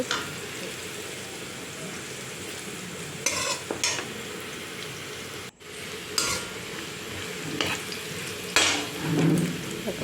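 Vegetables stirred and fried in oil in a wok, a continuous close sizzle broken by several bursts of scraping spatula strokes and metal clinks, with no voices.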